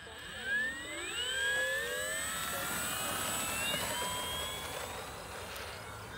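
Flightline F8F-1 Bearcat 1200mm RC model plane taking off on its maiden flight, a steady high-pitched electric motor whine with rising and falling pitch sweeps as it passes, fairly loud and continuous outdoors.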